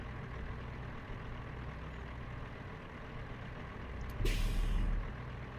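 A small truck in American Truck Simulator idles with a low steady engine rumble, then gives one loud, sharp hissing burst from its air brakes near the end.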